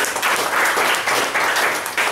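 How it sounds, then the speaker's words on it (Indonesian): A crowd claps for an agency manager at an Indonesian sales event, a brief burst of dense, even applause from many people that holds steady throughout. "Tepuk tangan buat GA kita ya."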